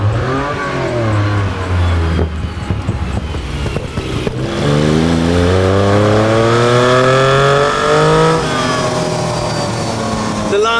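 A 1974 Lancia Stratos HF Stradale drives and revs up close, its engine note climbing and dropping through several gear changes, loud and prominent with no talk.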